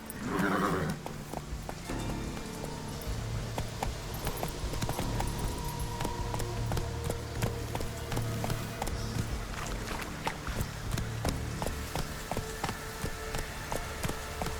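A horse gallops in The Witcher 3: Wild Hunt, its hoofbeats a steady, rapid clip-clop running throughout, with a brief whinny at the start and game music underneath.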